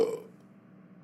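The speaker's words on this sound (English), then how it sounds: "I'm about to burp in class right now." A single short burp in a classroom, a brief rough belch that fades quickly into quiet room tone.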